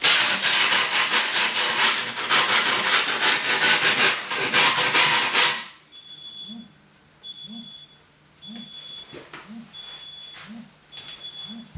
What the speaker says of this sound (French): le but, ça va être de terminer en prenant donc le bout qu'on a mis de côté pour gratter ce qui dépasse